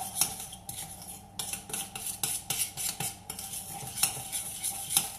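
A utensil stirs soft butter and sugar together in a bowl for chocolate chip and walnut cookies, making irregular scraping and clinking strokes up close with no talk.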